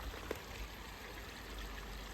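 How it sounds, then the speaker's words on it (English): A forest stream flows steadily, a soft continuous rush and burble of water with one faint splash, even and moderately close, with no one speaking. "Very relaxing music of the water."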